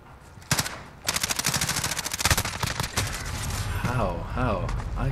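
Rapid automatic gunfire in a shooter video game, loud bursts of fast repeated shots after a quiet start, fading as a voice speaks toward the end.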